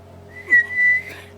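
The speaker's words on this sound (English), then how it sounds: "The steam whistle is..." A steam whistle from the ship Grand Elizabeth in a video game, two sustained tonal blasts with a short gap between them, fairly loud over a low background hum.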